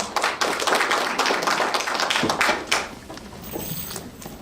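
An audience at a graduation ceremony claps in a sustained burst that is loud at first, then thins and fades toward the end.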